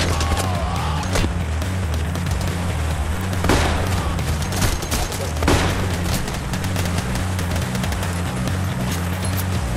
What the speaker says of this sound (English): Oh, he's shooting behind us.